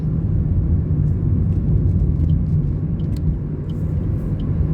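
A car drives steadily along the road, a continuous low engine and tyre rumble heard from inside the cabin, with a few faint ticks and clicks now and then and no talking.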